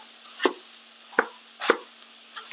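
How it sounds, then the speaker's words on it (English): Metal spatula chopping tofu in a skillet, four separate sharp knocks spaced about half a second to a second apart, close and fairly quiet over a low steady hum. "I'll just use my spatula to chop it up"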